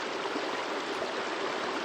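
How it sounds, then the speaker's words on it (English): A northward-running river at Sandy Ford on Dartmoor rushes steadily over quartz-rich rocks, a close, continuous broadband wash of flowing water with no voices. "This is the northerly running river that I'm right on right now."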